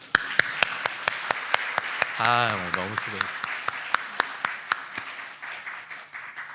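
A church congregation claps steadily, a roomful of hands applauding in a regular rhythm at a Friday worship service, while someone speaks briefly in Korean over it partway through.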